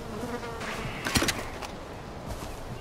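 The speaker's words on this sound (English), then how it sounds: "Thank God for cicadas." Insects buzzing in the jungle of Far Cry 4, a steady drone of cicadas with a brief louder rustling burst near the middle, moderately loud and continuous.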